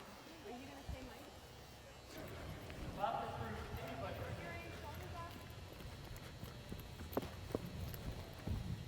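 Thoroughbred horse hooves walk at a steady clip-clop pace, fairly soft and near, under a rider's talk and light ambient noise.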